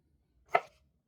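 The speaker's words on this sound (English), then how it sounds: "We're going to dice the potatoes into roughly bite-sized pieces." A single crisp knife chop through potato on a cutting board, dicing it into bite-sized pieces for sheet pan breakfast potatoes. The stroke is close and clear against near silence.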